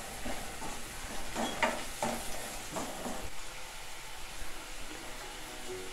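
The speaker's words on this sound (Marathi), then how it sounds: "आणि हे एक मिनटं मीडियम फ्लेमवर परतून घ्यायचं आहे आपल्याला" Chili and spices sauté in a pan over a medium flame, giving a soft, quiet sizzle broken by a few scraping stirs.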